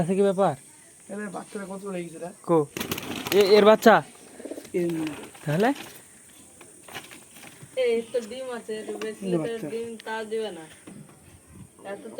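Pigeons coo now and then close by as people talk over them.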